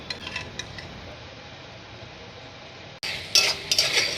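Spice mixture for rajma aloo stirred in a pan, with a steady low sizzle and then a louder stretch of metal scraping and clinking close up, with no talk.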